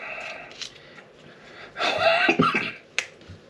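A single nearby cough, short and harsh, with a couple of sharp clicks around it in an otherwise quiet room.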